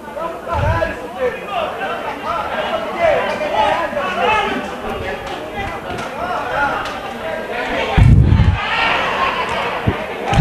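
Football stadium crowd at a match between Nacional Borbense and São Raimundo, a loud continuous roar of shouting and jeering with individual voices calling out and a few heavy thumps, close and dense throughout.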